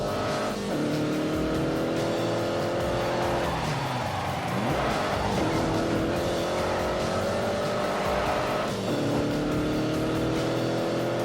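A car in The Grand Tour video game driven at full throttle, its engine roaring continuously and loudly with rising and falling revs through gear changes, plus some tire noise and no speech.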